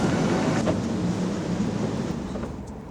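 Steady rumbling train interior ambience, a continuous low drone with broadband noise, close and even, no voices.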